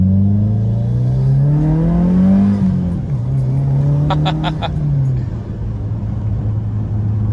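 A tuned Subaru WRX with aftermarket intake, downpipe and equal-length headers revs at full throttle, its loud engine note climbing steadily then dropping back and holding, with a few sharp clicks midway and no talk.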